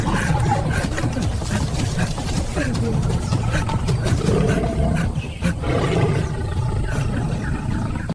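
A lion roars in a jungle: a loud, sustained, deep rumbling roar that fills the whole stretch, heard close against a dense, steady low background.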